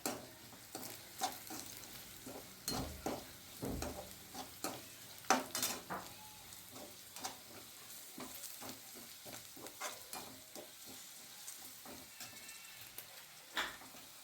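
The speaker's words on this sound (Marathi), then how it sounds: "खोबरा कीस टाकणार आहे। छान प्रकारे परतून घ्यायचं आहे।" Grated dry coconut sautéed and stirred in a pan for Khandeshi vangyache bharit, soft scraping strokes and faint sizzle in an irregular rhythm, quiet and close with no talk.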